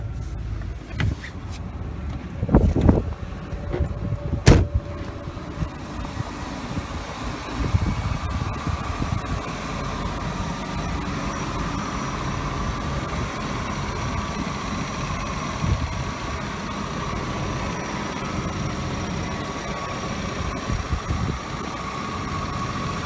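A 2001 Ford F250 Super Duty XLT with 184,000 miles cranks and fires up, then settles into a steady, smooth idle rumble, heard close with a few clunks early on.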